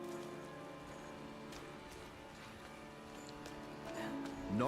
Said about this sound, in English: I like that it's raining and I get nice soggy footsteps in most areas.